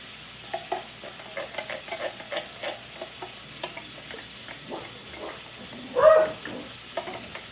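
Soft sizzling of sauce with garlic in a pan, with scraping, clinking stirring sounds, ending in a brief louder clatter near the end.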